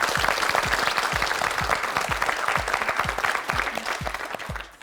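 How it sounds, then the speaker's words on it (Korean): A studio audience applauds on a Korean quiz show, a dense, even wash of clapping from many hands that holds steady and then tapers off at the end. "박수 보내주세요"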